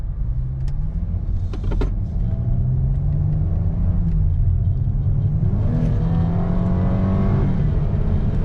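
A car engine hums loudly and steadily from close by, then revs up with rising pitch toward the end, with no talk over it.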